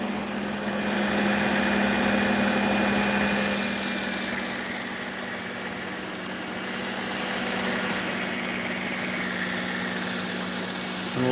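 A Work Sharp belt sharpener whines steadily while grinding the edge of a pocket knife, its high, hissing scrape growing brighter as the blade meets the belt, continuous and close.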